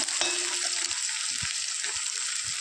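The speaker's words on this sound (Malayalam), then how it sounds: "പച്ചമുളകും അതുപോലെ ഇതിൽ നന്നാക്കി ഒന്ന് വഴറ്റിയെടുക്കാം" Green chillies sautéing in hot oil for mango pickle hiss in a loud, steady sizzle, with soft stirring knocks underneath throughout.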